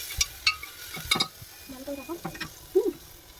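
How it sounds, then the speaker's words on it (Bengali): A spoon stirs spice mix with cumin seeds in hot ghee in a pan, giving a few scraping strokes and soft clinks over a low, quiet sizzle at close range. "মশলাটা একটুখানি দিয়ে নেড়ে নেবো"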